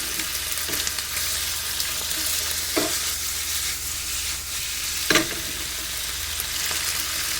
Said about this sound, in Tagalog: hayaan lang natin siya muna mag-simmer